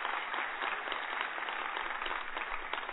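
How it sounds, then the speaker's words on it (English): A crowd at a dedication event applauds in a steady, dense patter of many hands, heard through a narrow, muffled channel with no talk over it. "I think we should clap for the University of California."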